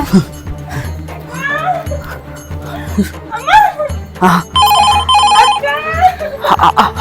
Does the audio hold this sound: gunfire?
no